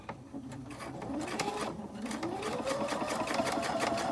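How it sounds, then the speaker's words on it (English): A computerized sewing machine stitches steadily in a quilting session, a continuous whirring hum with a rapid repetitive needle chatter, fairly close and even in level throughout. "even though the sewing machine is computerized"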